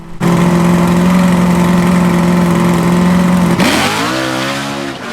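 A nitrous drag race car at a drag strip launches off the line, its engine holding a loud steady high-rpm drone before a sharp shift as revs rise again, continuous and close with no talk.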